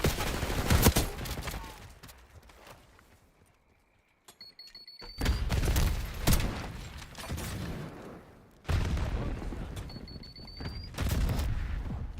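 Sniper rifle fire in a first-person shooter video game, with loud sharp shots, heavy reports and bursts of gunfire clustered in dense volleys, separated by brief quieter gaps.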